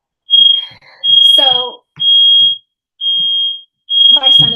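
Smoke or fire alarm sounding during an online advocacy training session, a series of loud, steady high-pitched beeps repeating about once a second, with people talking over it.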